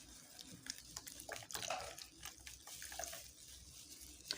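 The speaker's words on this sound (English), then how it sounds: "So you add your cold room temperature water in batches." Room temperature water poured in batches into a thickening homemade liquid soap made from oil and lye, a soft continuous trickle and splash heard close and fairly quiet.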